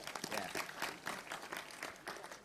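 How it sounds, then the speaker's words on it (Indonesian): An audience at a Javanese cultural and religious discussion gathering applauds the groups, producing fairly faint but continuous clapping with a rhythmic pulse throughout the brief moment. "tepuk tangan untuk kelompok-kelompok ini."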